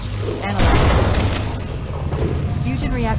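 A fusion reactor explodes in a sci-fi video game, a loud deep boom that rolls on as a sustained rumble with crackling debris, over steady game background noise.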